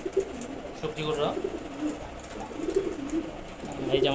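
Red checker racing pigeons cooing in a rooftop loft, repeated throaty rolling coos at close range over a steady ambient background.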